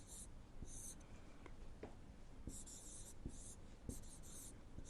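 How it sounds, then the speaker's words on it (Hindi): Chalk or marker writing on a board in a Class 4 maths lesson, with soft scratchy strokes coming in short bursts over a faint room hiss. "चलिए लिखते हैं।"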